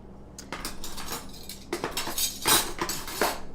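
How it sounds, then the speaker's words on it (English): A spoon scrapes and clinks against a bowl while stirring a seasoning mix for marinated sirloin strip steak, with soft, irregular taps that grow louder toward the end and no talking. "then I'm just going to stir this stuff up in the bowl"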